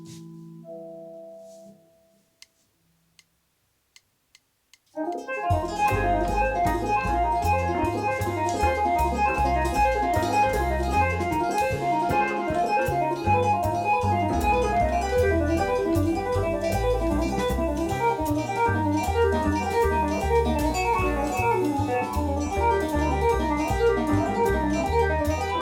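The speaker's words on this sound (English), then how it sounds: "let me play a really tiresome static sequence" Guitar plays a deliberately repetitive, static sequence of notes adapting through scale changes, a steady unbroken run of plucked tones after a few seconds of near silence, loud and alone with no talking.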